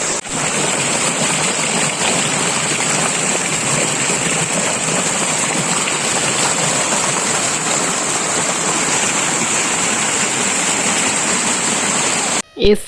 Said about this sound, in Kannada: ಸೌಂಡ್ ನೋಡಿ, ಸಕ್ಕತ್ತಾಗಿ ಸೌಂಡ್ ನೋಡಿ. ಫಾಲ್ಸಿಗೆ ಮಾತ್ರ ಬಂದಂಗೆ ಇದೆ.